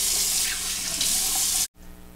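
Tap water runs steadily from a faucet into a sink for a quick rinse of a razor during a shave, a loud continuous splashing hiss that cuts off abruptly near the end.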